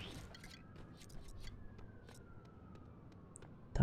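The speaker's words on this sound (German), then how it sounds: "Tatütata" A police siren sounds in the Lego City Undercover game, a faint, thin tone that slowly slides downward in pitch over quiet background noise and scattered clicks, ending with a sudden loud thump.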